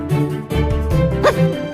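A robot toy dog gives a few short, electronic-sounding barks and yips in quick succession, loud and close with a slightly synthetic tone.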